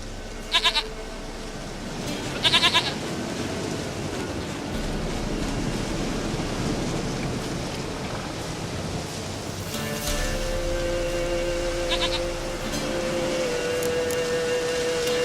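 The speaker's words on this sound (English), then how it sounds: "Goat of mine! Dearest, sweetest goat!" Goat bleating in The Witcher 3 video game, a few short bleats over steady outdoor ambience, with a further bleat later among faint game sounds.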